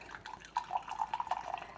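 Hot cumin, coriander and fennel tea pours from a brewing container into a cup, a soft, quiet trickle of liquid with small splashy pulses over a couple of seconds, nearby and with no speech.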